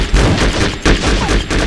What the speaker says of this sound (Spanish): Que la escopeta peta. Escucha el ruido aquí, ¿no?